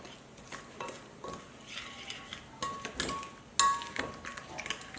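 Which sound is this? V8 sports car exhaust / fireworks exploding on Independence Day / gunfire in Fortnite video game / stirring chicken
stirring chicken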